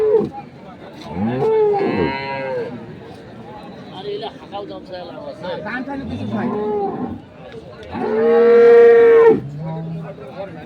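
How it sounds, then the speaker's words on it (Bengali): High-breed dairy cows at the Ambari cattle market in Dinajpur let out several loud, drawn-out moos close by, one after another, over a background of market crowd chatter. "আমবাড়ি হাটের যে দুধের গাবে গরুগুলো রয়েছে সেই গরুগুলোকে দেখবো"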